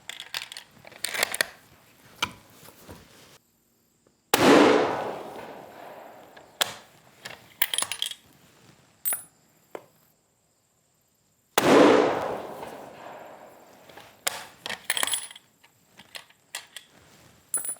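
Deer rifle firing 168-grain ammunition at a range, two loud sharp shots spaced several seconds apart, each trailing a long echoing decay, with scattered clicks and handling noises between.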